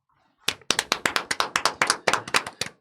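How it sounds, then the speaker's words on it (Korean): A pair of hands clapping about a dozen times in a quick steady rhythm, close and crisp, following a brief murmur of speech at the start. "저는 박수 하나 주고 싶은 사람이 있어요."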